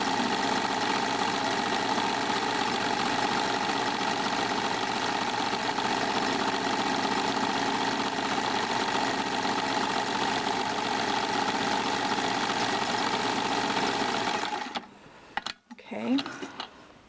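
A sewing machine running steadily while sewing a row of satin stitch along a hem, a continuous close mechanical hum and whir that stops abruptly near the end, followed by a few soft handling clicks.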